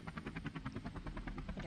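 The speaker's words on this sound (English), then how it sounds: "And here comes the helicopter." Helicopter arriving in the video game Infiltrating the Airship, with a steady, rapid rotor thump in an even rhythm, moderately close and constant, without talk.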